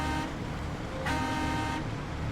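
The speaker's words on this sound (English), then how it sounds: "What's the horn sound like?" A heavy truck's horn in SnowRunner blares in two long, loud, steady blasts with a brief gap between them, over a constant engine rumble.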